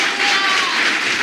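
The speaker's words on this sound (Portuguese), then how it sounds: "Uma salva de palmas para Jesus" A worship crowd claps in applause for Jesus, a short, bright burst of continuous clapping at close range.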